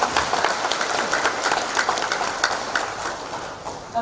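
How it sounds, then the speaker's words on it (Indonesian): Applause at a national seminar ceremony in Indonesia: a crowd claps steadily and fairly loudly, a dense patter that holds for several seconds and eases slightly toward the end. "Tepuk tangan Pak Burhan."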